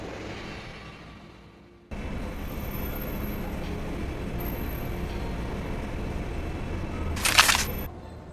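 A train in the video game Dark City 7 rolls in after a quieter opening, a steady rumbling roll with faint high squeal, then a loud hissing burst of steam or brakes near the end.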